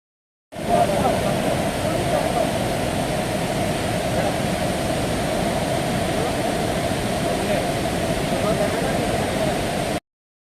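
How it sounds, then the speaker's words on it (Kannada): Burude waterfall in Siddapur, Karnataka, roars as a steady, dense rush of falling water that starts abruptly and holds loud and even for about nine seconds without pause. "ನಿಮ್ಗೆ ಸಿಗೋದೆ ಈ ಮೆಸ್ಮರೈಸಿಂಗ್ ಬುರ್ಡೆ ವಾಟರ್ ಫಾಲ್ಸ್"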